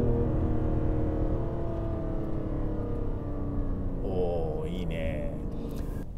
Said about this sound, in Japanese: ちょっとパドルでシフトダウン、 ほら気持ちいいじゃないですかね